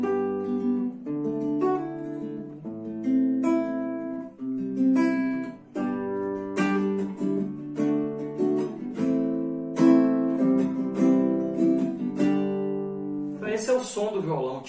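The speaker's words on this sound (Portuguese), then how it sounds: "Esse é o som do violão." Acoustic nylon-string guitar playing a steady sequence of plucked chords and arpeggios, close and clear, ringing alone with a brief scrape at the finish.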